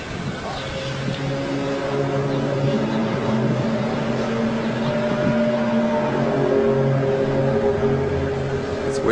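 A loud, steady droning hum with sustained horn-like tones fills the air as the mysterious sky sound known as angel trumpets, continuous and unchanging for the whole stretch.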